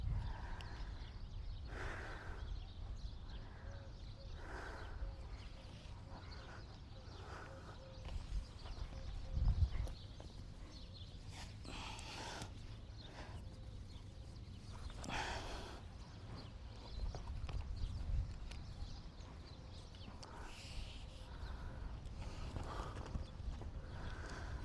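Hooves of an Arabian endurance gelding clip-clop faintly on the ground during training, soft irregular steps under steady outdoor background noise, with a few slightly louder thumps along the way.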